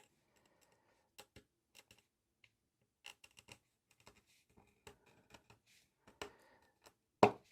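Scissors snip through sticker paper in a series of small, dry clicks spaced irregularly, quiet and close, ending with one sharper, louder snap.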